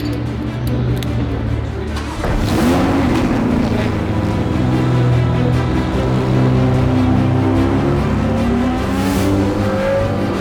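Ferrari Challenge race car lapping the Circuit Paul Ricard at Le Castellet during free practice, its engine droning loud and steady with rising and falling pitch sweeps, heard from close by, with faint voices mixed in.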